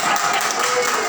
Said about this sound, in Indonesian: tepuk tangan ada